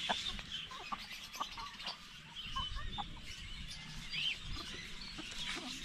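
Chickens clucking close by outdoors while feeding on grass, soft repeated clucks and chirps over light rustling, no talk.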